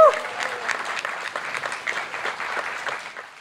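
Warm applause from the crowd at a student band concert as the drummer is introduced, continuous overlapping claps with a short feedback-like tone at the onset, fading slightly toward the end.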